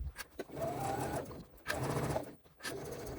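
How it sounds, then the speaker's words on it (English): A sewing machine runs a long-stitch-length seam around the outside of layered bag front pieces, humming in two extended runs broken by brief stops, close but soft with no talk. "using a long stitch length and a 1/8 of an inch seam allowance, I'm just going to sew around the entire outside."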